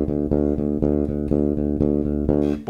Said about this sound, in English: we're just going to play a steady pedal bass line on there that sounds like this.